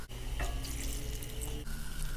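Water is poured from a tap or jug into a pot of fried chicken, a steady close rushing stream with a constant watery hiss and faint sizzle underneath, broken briefly midway.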